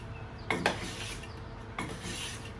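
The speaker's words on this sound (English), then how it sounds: "So I could take this, Take little slices off, thin ribbons." A hand plane scrapes across a wooden board, peeling off thin ribbon shavings. Two short rasping strokes come close together, followed by one more after a pause, close up against a quiet room.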